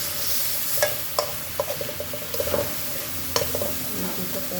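River aor fish curry simmering and sizzling in a pan after water is added, with a steady frying hiss and occasional stirring scrapes and clinks, close and alone.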